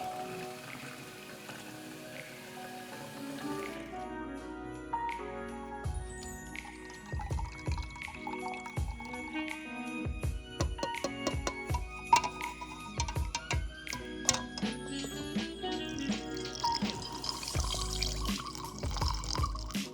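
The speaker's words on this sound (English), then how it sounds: "We need 30 ounces of water at room temperature, and then we can just mix the two together." Room-temperature water is poured and stirred into film stabilizer for colour film developing, giving soft trickles, splashes and scattered drips and clinks that carry on at close range without talk.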